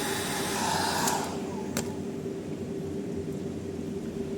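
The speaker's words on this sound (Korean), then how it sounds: "스프레이가 없어 드라이기로 대신합니다." A hair dryer blows steadily at close range, a constant airy whoosh with a faint hum, running without pause and with no talking.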